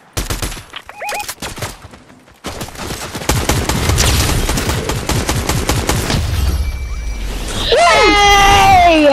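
Rapid Fortnite gunfire crackles loud and dense in sustained automatic bursts, mixed with in-game crashes and whooshing effects, with no talking.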